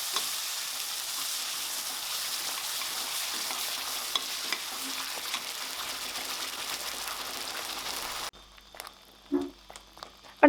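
Steady sizzling of tomato puree frying in a pan with stirring scrapes, broad and continuous for about eight seconds, then quieter clinks and faint taps.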